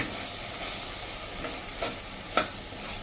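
Raw mango and jaggery curry being stirred in a pan, with soft steady sizzling and a couple of brief scraping clinks of the spoon, no talking.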